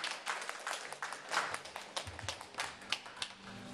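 Audience applause at a Taiwanese week event at the Centre Pompidou, fairly quiet and steady, a scattered patter of clapping hands with a few sharper claps standing out over about four seconds.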